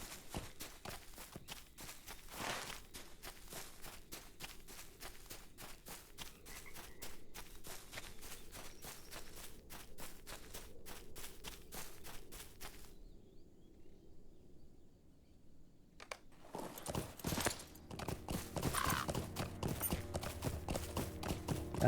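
Horse hooves clip-clopping in the video game LOTRO, a fast even patter of steps for most of the stretch, then a short hush before louder game sounds and effects take over.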